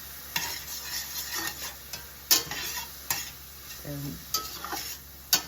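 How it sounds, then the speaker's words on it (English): Parsley, basil, oregano and vegetables sizzle in a pan for a sausage, pepper and onion pizza bread, with a steady fry beneath repeated scraping stirs and utensil knocks; one brief spoken word. "I'm going to cook these down until they are soft."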